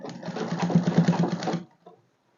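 A sewing machine runs a dress seam in one steady, close burst of about a second and a half, its rapid needle chatter even and continuous before it stops abruptly, with a faint trailing click afterward.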